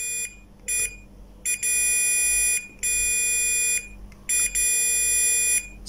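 A multimeter in continuity mode beeping across a shorted SMPS capacitor: high, steady electronic tones sounding in several on-off bursts of varying length, close and clear over a low hum.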